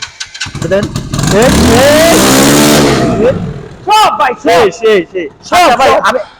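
A Suzuki Gixxer SF 4V motorcycle from 2021 or 2022 starts on its electric self-starter and its engine rises into a loud, close revving drone, followed by people talking excitedly nearby.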